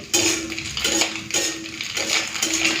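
Fried kachki fish is moved into an iron wok, with repeated metallic scrapes and clinks of a utensil against the pan. About four rhythmic strokes sound close, with no talking.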